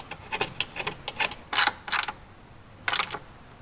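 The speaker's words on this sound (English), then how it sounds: "secure it in place using this factory bolt" A factory bolt is tightened onto a fender mounting plate on a Jeep Wrangler JL or Gladiator JT. A tool ratchets and clicks in short, uneven bursts, close by, with a few louder clacks in between.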